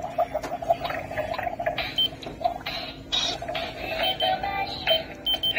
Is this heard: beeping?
yes